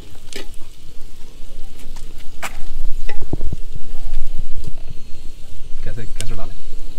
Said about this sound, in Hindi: तो टमाटर डालते हैं इसमें अब।